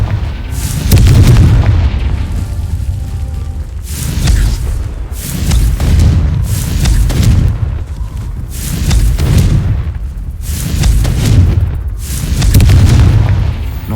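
Confringo blasting spell explosions in Hogwarts Legacy, a series of heavy booming blasts roughly every second or two, loud and rumbling, with swelling low roars between impacts.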